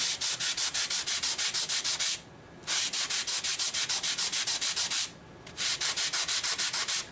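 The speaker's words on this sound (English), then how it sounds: "I just have an EPP block with my sandpaper on it" An 80 grit sandpaper block rubs along the edges of an EPP foam motor mount, fast rhythmic back-and-forth strokes in three close, steady runs with short pauses between.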